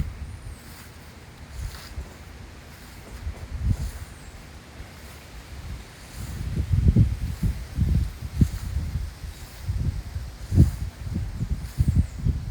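Strong, constant wind of about 25 mph blows through zinnias and other plants on a hot urban farmstead, a steady low rush with gusty swells and rustling that grows stronger in the second half.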